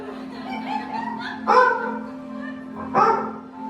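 A person in a Sunday school and mahila mandal skit imitates a dog barking, giving two loud, sharp barks about a second and a half apart over a steady low hum and some background murmur.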